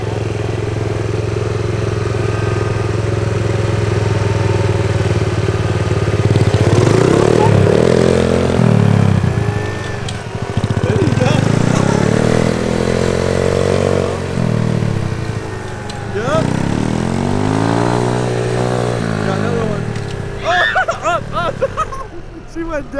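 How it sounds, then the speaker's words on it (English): A dirt bike engine being ridden by a learner revs up and down repeatedly, loud and close, rising and falling through gears with idling lulls while people talk over it. "you got to listen to the motor. So when it's revving high."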